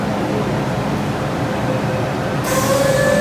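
An MTR M-train at Mei Foo Station rumbles loudly and continuously past at close range, with a dense rolling roar, then a sharp high squeal of wheels and brakes that rises near the end.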